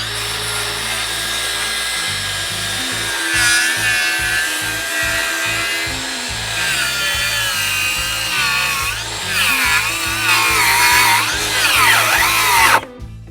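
A DeWalt DCS590 cordless circular saw cuts through a wooden board with a loud, close, continuous whine and rasp that shifts in pitch under load, then cuts off abruptly at the end.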